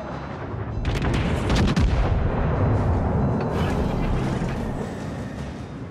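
Heavy warship artillery booms and rolls continuously in the naval combat game World of Warships: Legends, dense layered blasts with sharp cracks rising over a constant low rumble, loud and sustained.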